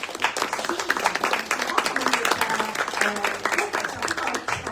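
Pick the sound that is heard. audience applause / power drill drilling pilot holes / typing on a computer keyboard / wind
audience applause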